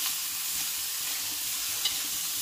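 Beef frying in a pan with black pepper and chilies, a steady, close sizzle with faint stirring scrapes and no talking.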